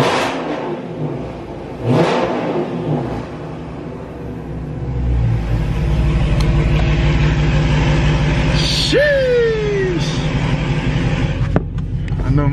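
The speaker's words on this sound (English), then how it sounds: "I'm gonna give y'all a little rev." A Dodge Charger or Challenger engine revs outdoors, a loud low rumble that climbs and swells into a sustained roar before dropping back, with no talking.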